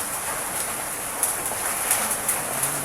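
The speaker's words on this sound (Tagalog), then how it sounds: "Malakas na naman ang ulan." Heavy rain pours steadily outside beneath a roof, a dense even hiss that stays loud and constant for the whole stretch, with a few brighter splashes and patters rising above it.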